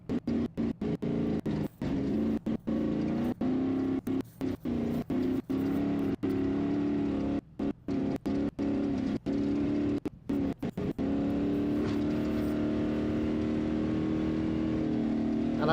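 Engine of an Ultra4 off-road race vehicle during a lap of the Laughlin Desert Classic at the Ultra4 Nationals, droning loudly and continuously close by, with repeated brief cuts and dips as the throttle is lifted and reapplied.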